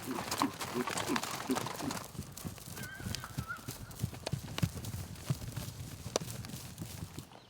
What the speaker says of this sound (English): the cowboys at the Circle Bar Ranch are driving in the horses